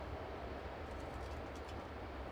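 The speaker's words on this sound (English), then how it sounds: "Hard to hear when the train's going by" A train rumbles past outside a blacksmith's smithy as a faint, steady, distant wash of noise with no voices over it.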